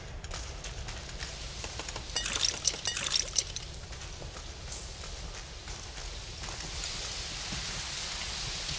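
Steady rain hisses and patters in the horror video game The Evil Within, a soft continuous wash with a brief burst of heavier droplets early on, heard alone without talk.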